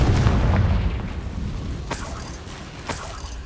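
Confringo fire spell explosions in Hogwarts Legacy, a deep rumbling boom at the start followed by two sharp bursts a second apart, with no voices.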